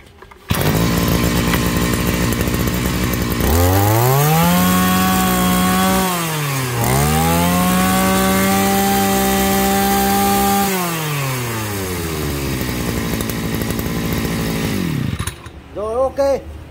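A B18 brush cutter with a 40 mm cylinder and squeeze throttle is test-started; its small two-stroke engine revs up loudly, holds a high whine, dips briefly, revs again and falls back to idle, close and steady for most of the stretch.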